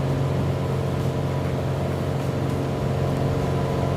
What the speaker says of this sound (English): Don't want to distress those folks with our engine noise there.